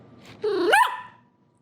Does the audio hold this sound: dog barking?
yes